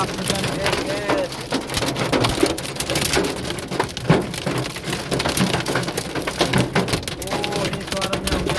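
Hail pelting down during a hailstorm in Mecca, a dense continuous patter of hard hits on surfaces with sharper individual cracks, close and steady throughout, with faint voices in the background.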